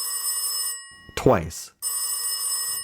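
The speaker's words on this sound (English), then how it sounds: "the water detective's black mid-20th century desk phone rang once," Black mid-20th century desk telephone with a bell ringer, sounding two sustained rings separated by a brief spoken word, each ring steady and clear.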